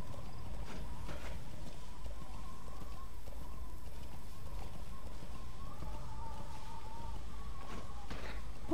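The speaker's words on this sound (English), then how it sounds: "why would people not question a horse in battle armor?" Armored horse galloping in Metal Gear Solid V: The Phantom Pain, a steady drumming of hoofbeats under a continuous low rumble, close and moderately loud, with faint speech mixed in.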